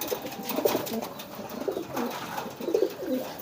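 Several pigeons coo in soft, repeated throaty bursts close by, with a faint background hiss and no voices.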